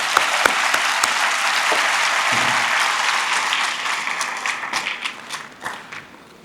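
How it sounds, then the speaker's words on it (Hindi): An audience at a talk on nation building through character building applauds, with a full burst of clapping that holds steady and then thins into scattered claps as it dies away. "तो एक बार उस बच्ची के लिए तालियां हो जाए।"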